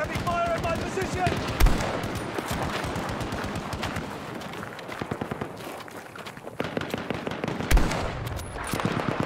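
Heavy gunfire in the Battlefield 2042 1942 Rush mode, rapid machine-gun bursts rattling continuously with a couple of sharper, louder shots standing out, all close and dense, with a voice calling out briefly.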